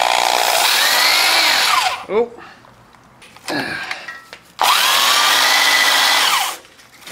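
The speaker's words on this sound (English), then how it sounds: "Okay, I got an actual drill this time." Loud power drill whining steadily in two long bursts while machining a metal steam engine valve body, separated by clinks and a brief pause; a short exclamation is heard between bursts.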